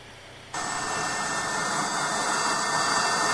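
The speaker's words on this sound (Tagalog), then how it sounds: "Sakay ng US Navy helicopter" A US Navy helicopter in flight over Tubataha Reef, a loud steady roar of engine and rotor that swells abruptly after a quieter opening and then holds constant, with no voices.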